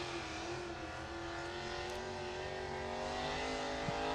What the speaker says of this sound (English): As we hear the tractor pull in the background.